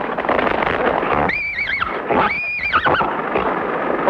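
A horse neighs twice in quick succession, loud and close, with wavering whinnies over a steady background rumble.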